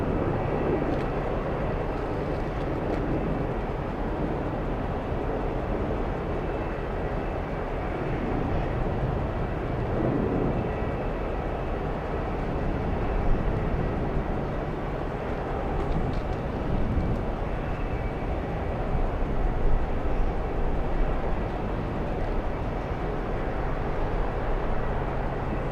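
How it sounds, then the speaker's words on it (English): A Lufthansa airliner takes off, its engines a broad, steady low roar that swells slightly toward the end, heard from a distance without any voices. "Lufthansa 423 cleared for takeoff"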